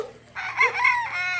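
Chickens and roosters on a farm in Bauang, La Union, with a rooster crowing loudly and nearby in a single drawn-out call, light clucking around it.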